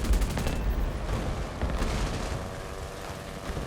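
Machine gun fire in War Thunder during a dogfight with a Re 2005 fighter plane: dense, rapid bursts of gunfire crackle through the first half, then fade into a lower rumble of engine and distant shots.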